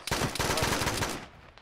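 A dense burst of rapid gunfire coming from a base in a military shooter game, loud and close, quickly cracking for about a second before fading out.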